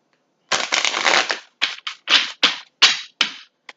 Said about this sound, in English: As you can see, I'm going to keep shuffling.